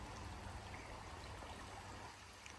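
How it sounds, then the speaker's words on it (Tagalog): A small stream on a hiking trail near Awosting Falls flows as a continuous soft rush of water, steady and faint, with no voices over it. "Meron din palang sapa dito."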